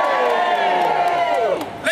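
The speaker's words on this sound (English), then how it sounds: "Let's have the loudest We Love Six Music cheer so far" A large outdoor crowd at a BBC 6 Music protest roars and cheers loudly and continuously, with whoops rising above the sustained din before it briefly dips near the end.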